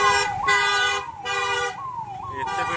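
A police siren wails close by near a crowded bridge, rising and falling in a repeating cycle about every half second over traffic noise.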